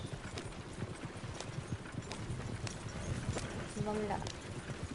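Horses trot in Red Dead Redemption 2, with a steady rhythmic clip-clop of hooves running under someone talking, plus a brief whinny near the end.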